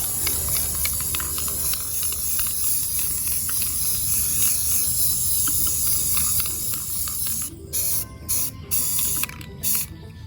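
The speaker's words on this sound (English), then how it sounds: "And then you take your paint and you just spray." Continuous hissing of an aerosol spray paint can spraying a tumbler, then several short bursts of spray with pauses between them toward the end.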